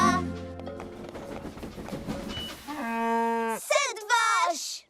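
Cartoon cows mooing over a children's train show soundtrack, several drawn-out bovine calls in succession with music and other sounds around them.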